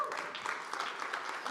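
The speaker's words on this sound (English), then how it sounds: "one more round of applause for all the teams, please" A quieter round of audience applause for the film teams at a 24-hour movie race screening, soft scattered clapping from a modest crowd heard a little distant.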